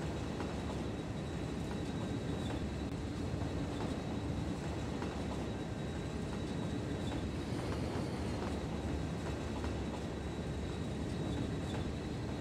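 A train rolls along rails through a town in the Cities Skylines city-building game, a steady dense rumble with faint clatter that holds unchanged throughout, with no voices.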